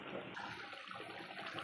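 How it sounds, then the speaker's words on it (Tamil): Mango vathal kara kuzhambu curry boiling in a pot, a soft steady bubbling that goes on without a break, fairly faint and alone. "குழம்பு நல்லா கொதிச்சிட்ருக்கு."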